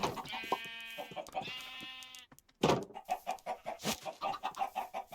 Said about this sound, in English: one white chicken, one blue chicken. Can they breed?